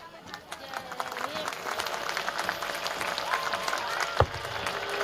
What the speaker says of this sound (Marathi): आपल्यासाठी सगळ्यांनी टाळ्या वाजवायच्या